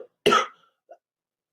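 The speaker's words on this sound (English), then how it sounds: "Deal with the sore throat and a mild cough" A single sharp cough from a person with a sore throat, close and loud, followed by a faint short throat sound in an otherwise quiet space.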